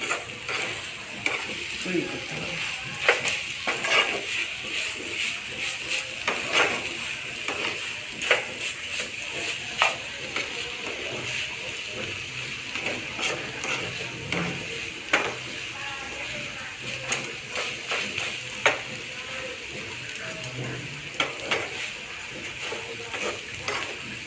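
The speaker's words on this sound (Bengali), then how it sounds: "নেড়ে যেতে হবে কিছু যেন লেগে না যায় এইভাবে এইভাবে বারবার করে নেড়ে সুন্দর করে" A spoon steadily stirring payesh, milk rice pudding, in a pot during Poush Parbon cooking, with soft repeated scraping and bubbling that runs continuously at close range with no talk.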